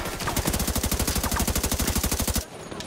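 Sustained automatic gunfire from a third-person shooter set around the White House South Lawn, a rapid, steady burst of loud, evenly spaced shots running about two and a half seconds before cutting off to quieter ambient noise.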